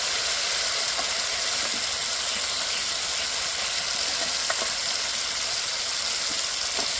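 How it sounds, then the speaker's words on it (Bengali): Fried potatoes go into a spice masala in a pan and fry with a steady, fairly quiet sizzle, with faint occasional scrapes and clicks underneath. "এবার দিয়ে দেবো ভেজে রাখা আলু।"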